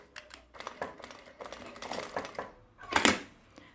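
A sewing machine stitches slowly past a zipper on a fabric panel lining, a close run of rapid mechanical needle clatter in uneven bursts with brief pauses, ending in a louder burst.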